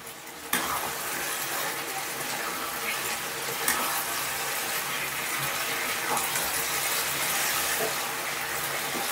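Water pours into browned mutton for a Bengali mutton curry, starting with a sudden rush that settles into a steady hiss and bubbling sizzle, interrupted by a couple of faint knocks from the pot.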